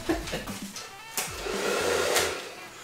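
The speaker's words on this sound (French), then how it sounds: "Le sèche-cheveux fonctionne." A hair dryer blows steadily throughout, a continuous broadband whoosh with a low motor drone underneath, close and fairly loud, with a couple of brief clicks or bumps from handling.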